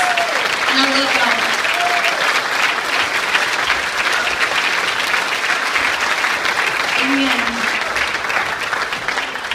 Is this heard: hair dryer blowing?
no